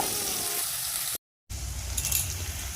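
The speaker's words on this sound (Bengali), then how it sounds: "পেঁয়াজ কুচি কুচি করে কেটে রেখেছি, তো সেটাও গরম তেলে দিয়ে দিলাম" Chopped onions sizzling in hot oil: a steady frying hiss with faint clinks, broken by a brief gap of silence before the sizzle resumes, slightly fuller, and runs to the end.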